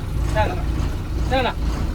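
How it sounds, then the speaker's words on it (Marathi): A truck carrying villagers on the Pandharpur Wari pilgrimage toward Dehu gives a steady, close engine rumble throughout, with voices rising briefly over the drone. "हा ट्रक आम्हाला घेऊन चाललेला आहे आता"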